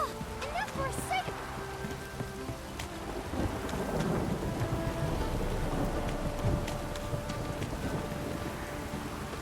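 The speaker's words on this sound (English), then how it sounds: "This downpour's a bastard." Heavy thunderstorm downpour in The Witcher 3, dense rain hissing continuously with low rumbles of thunder, under a few voiced grunts and lines from a man.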